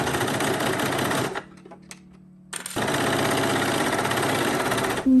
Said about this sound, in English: Start by pinning and serging the front and the back pieces at the inside leg seam